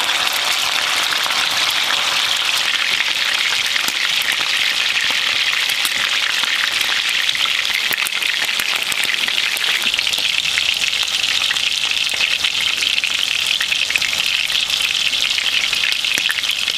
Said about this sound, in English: And we're going to start our sear. You're going to want it to be good and hot.